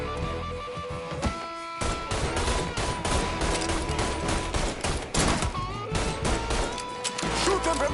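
Rapid, loud gunfire from the video game Mafia 3 rattles almost nonstop through the whole stretch, dense bursts layered with sharp impacts and a brief lull near the middle.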